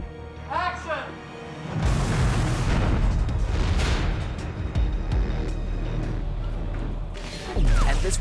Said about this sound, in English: this huge explosion going on behind you